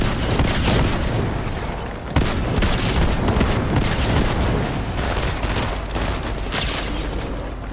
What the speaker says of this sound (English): there's gonna be players shooting us